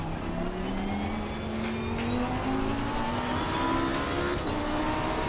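A Porsche race car engine drones steadily at high revs on the Zolder circuit in a sim racing game, with rising gear whines and a continuous loud roar.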